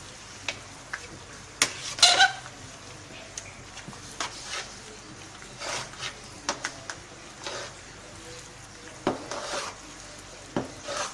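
Haleem mixture being stirred in a pot, with scattered scraping and clinking taps of a spoon against the pot at an uneven rhythm, fairly close and moderate in volume, no talk.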